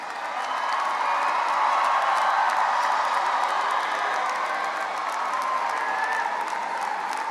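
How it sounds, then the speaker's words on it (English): Family and guests at an Oak Park and River Forest High School graduation give the graduates steady, dense applause that fills the hall evenly, with faint scattered cheers mixed in. "as we applaud your outstanding efforts"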